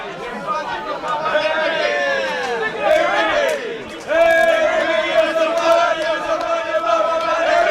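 A wrestling crowd at a CCW Riot show chants a song tune at wrestler Ricky Combat, a loud rhythmic arena chant with overlapping voices that dips briefly and then surges louder and more unified.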